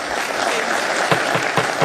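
Audience applause in a legislative assembly chamber, a short burst of dense clapping from many hands, close and fairly loud, with no talk over it.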